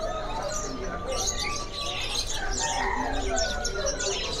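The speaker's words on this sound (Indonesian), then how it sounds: "mau review burung kenari ini ya, di tempatnya Pak Haji Kasmin nih" Canaries at Pak Haji Kasmin's bird shop in the Pramuka bird market chirp and tweet continuously as a dense, bright chorus of many birds, with steady background noise throughout.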